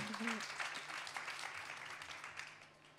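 Audience at a French engineering forum applauding schoolgirl ambassadors, a soft, even patter of many hands, fairly distant and faint, with a voice briefly audible at the start.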